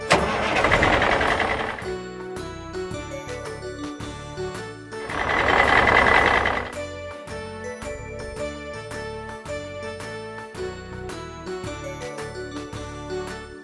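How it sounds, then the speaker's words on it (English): A pickup truck engine cranks and starts, then reverses with repeated backup beeps, alongside bright jingling tones; two louder rumbling bursts stand out near the start and midway through. "Pickup truck."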